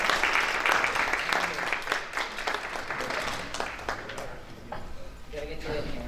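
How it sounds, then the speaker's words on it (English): An audience at an Atlantic County award ceremony breaks into a round of applause, dense clapping that starts strong and tapers slightly, with voices mixed into the crowd. "Can we get another round of applause for"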